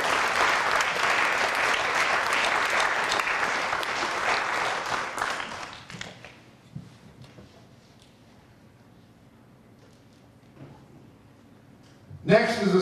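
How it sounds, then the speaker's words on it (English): Concert audience claps for student band members at a high school spring band concert, a steady round of applause lasting about six seconds, then a quiet hall with small stray noises before a voice starts. "let's give these students a round of applause"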